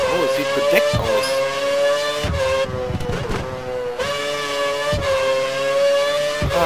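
A Toro Rosso Formula 1 car in the racing game F1 2013 drones with a steady high engine whine through gear shifts, a few brief dips and lifts breaking the tone.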